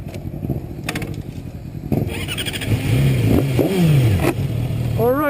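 A 2018 Yamaha R6 sport motorcycle revving nearby, the engine note rising and falling in sharp sweeps over a rumbling idle, with clattering mechanical noise and a quick high rev burst at the end.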